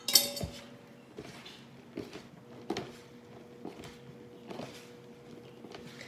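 Cornbread dressing being stirred together in a bowl, with soft scraping and occasional clinks of a utensil against the dish repeating at an uneven pace, quiet and close.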